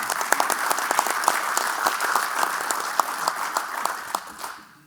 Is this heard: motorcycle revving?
no